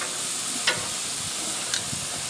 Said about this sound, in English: we're gonna turn the flank steak and the skirt steak